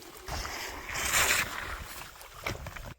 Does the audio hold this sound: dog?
no